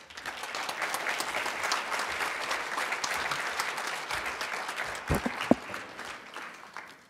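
Warm, dense applause from an audience in an atrium at a pollinator event, greeting Mayor Betsy Hodges; many hands clapping steadily at even volume throughout, with a couple of sharper claps near the end.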